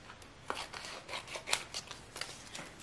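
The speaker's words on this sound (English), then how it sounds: "let's cut a piece" Scissors cut a piece of black paper for a collage, a series of close, crisp snips and rustles in an irregular rhythm, heard alone and fairly quiet.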